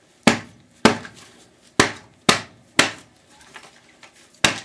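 Six sharp, loud hammer blows strike a TV yoke being scrapped for copper, hard and hollow, spaced about half a second apart with a pause before the last.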